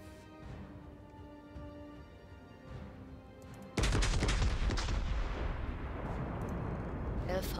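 Naval gunfire booms from a warship battle in World of Warships: a sudden loud broadband blast hits midway, then a long rumbling roar of volleys and impacts that slowly fades, preceded by quieter game ambience.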